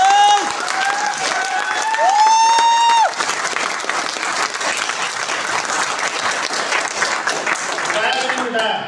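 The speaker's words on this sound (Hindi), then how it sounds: "तो ऐसे आदमी के लिए कैसी तालियां बजाओगे आप?" An audience bursts into sustained applause at a motivational talk, a steady wash of many hands clapping that carries on for several seconds after a voice finishes speaking.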